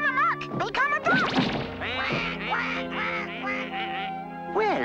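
A cartoon duck quacks loudly and repeatedly, up close, with comic whacks and crash effects mixed in and no one speaking.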